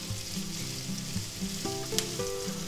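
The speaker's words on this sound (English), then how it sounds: "Now we just add our ham, onions, and green peppers in there." Diced ham, onions and green peppers sizzling in a hot frying pan, a steady close crackle and hiss with a few light clinks of a utensil stirring, no talking.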